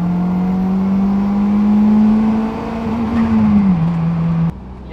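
Boosted Toyota MR2 Spyder (MR-S) engine held at steady, high revs near a 7,000 rpm limit with a droning exhaust note, dipping briefly before cutting off abruptly near the end; no talking.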